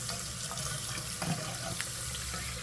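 Tap water runs steadily into a sink while warming up for soaking off press-on nails, a continuous close splashing hiss with a small knock partway through and no talking.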